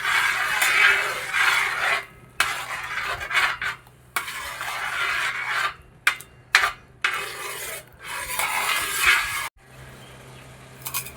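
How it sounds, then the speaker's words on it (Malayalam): Coconut milk being stirred into a coconut flower (pookkula) mixture in a pan, with scraping and clinking of a spoon against the vessel in irregular bursts separated by short pauses. "തേങ്ങാപ്പാൽ കൂടി ചേർത്ത് നല്ലപോലെ ഒന്ന് മിക്സ് ചെയ്യണം"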